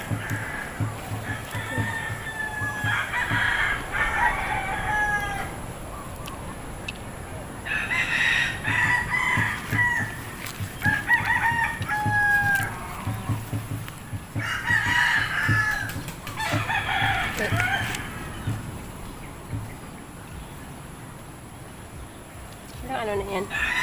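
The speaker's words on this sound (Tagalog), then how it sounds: "Asan yung mga manok at pato?" Chickens cluck and crow alongside ducks on a farm in repeated bursts, fairly near, with people talking at moments over the birds.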